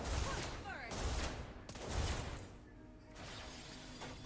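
Rapid bursts of Mobile Legends: Bang Bang gunfire crackle and shatter in dense, noisy volleys, loud and continuous with brief lulls, and a voice faintly under the din.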